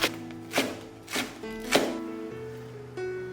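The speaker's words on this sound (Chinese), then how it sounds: "再来切一些葱花" A knife chops scallions on a board, four sharp thuds spaced about half a second apart, close and distinct over a faint background hum.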